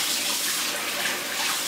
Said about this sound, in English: And then agitate the water to activate the OxiClean.